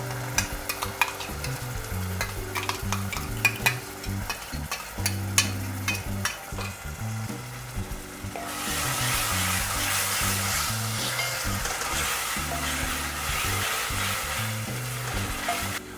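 Goan masala paste frying on a low flame for a shark ambot-tik curry, a soft continuous sizzle with repeated scraping stirs, the frying growing denser and brighter partway through, no voices.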